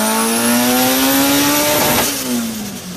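A miniature four-cylinder engine modelled on the Toyota 3S-GTE runs at high revs, a loud buzzing whine that climbs steadily, then drops and settles near the end, heard close with no talk.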